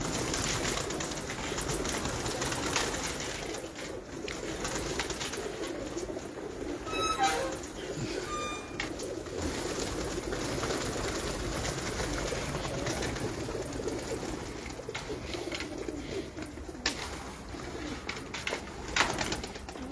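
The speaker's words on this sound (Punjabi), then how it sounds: "ਇਹ ਉਹ ਕਬੂਤਰ ਮੈਂ ਦਿਖਾ ਰਿਹਾ" Pigeons coo from a rooftop, soft and intermittent against a constant broadband outdoor hiss with occasional faint clicks.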